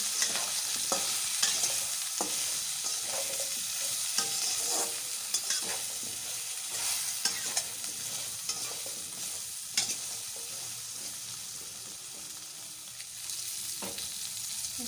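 Shredded cabbage with salt and turmeric fries in a pan, a steady sizzle broken by frequent scraping stir strokes, close and continuous throughout with no voices.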